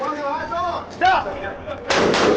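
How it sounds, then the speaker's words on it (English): Gunshots fired during a police standoff outside a building, two or three sharp reports cutting through close radio-style voices, the final blast loudest and sustained. "Shot being fired."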